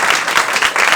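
Dense, continuous audience applause fills a stand-up comedy show, steady and loud throughout with rippling claps and no talk over it.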